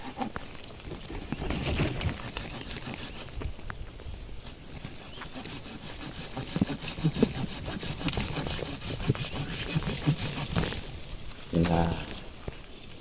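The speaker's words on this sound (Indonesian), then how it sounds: "jadi cabang-cabang yang besar harus pakai gergaji ya, jangan pakai gunting" Hand saw cutting through a large Arabica coffee branch during pruning, a steady rasping back-and-forth stroke repeated for the whole stretch, close and moderately loud with rustling leaves.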